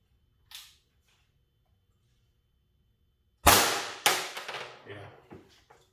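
PepperBall VKS launcher powered by twin 12g CO2 cartridges fires 4-gram balls: a faint tick, then after a pause two loud, sharp bangs about half a second apart with a rattling tail, no talk.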